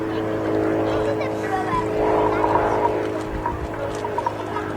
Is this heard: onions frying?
no